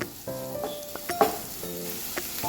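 Onions frying in oil for a paneer curry, stirred, giving soft sizzling with a few quick scrapes and clicks of the spoon against the pan over a short stretch, close and quiet, without talk.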